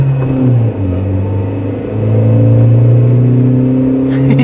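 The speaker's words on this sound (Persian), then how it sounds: "این همه باد داره میره تو موتور" A Peugeot 206 engine fitted with three electric superchargers revs loudly up close, a steady droning hum with a rising whine that holds and swells throughout.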